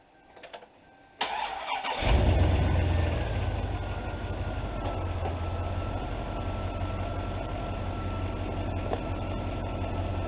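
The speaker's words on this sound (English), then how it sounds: "please start the engine and wait 15 seconds and then press enter to continue" A 2003 Silverado HD 2500 with the 8.1 V8 cranks briefly, fires and settles into a steady, close idle with a low, even rumble; no one speaks.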